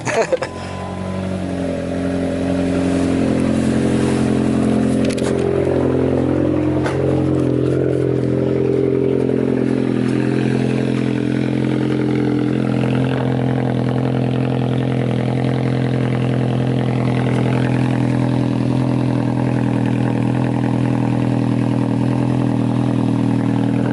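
A loud, throaty pickup truck exhaust with a new muffler idles steadily up close, a deep continuous rumble with slight fluctuations and some clatter.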